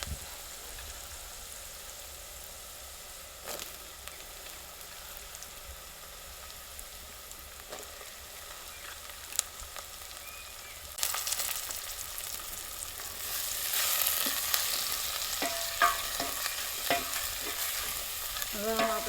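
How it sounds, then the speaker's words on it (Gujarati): Green onions sizzling and stirred in a pan while making a roasted eggplant dish, a faint crackling fry with scattered spatula taps that grows louder and busier toward the end, no one speaking. "હવે નાખી દઈએ આપણે આ લીલી ડુંગળી"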